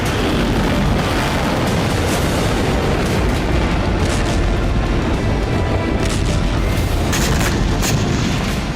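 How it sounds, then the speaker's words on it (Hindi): Dense, continuous roaring blasts and rumbling booms fill the clip, loud and sustained, like a barrage of launches and explosions with no pauses. "मिसाइलें गरजती हुई आसमान की ओर बढ़ी"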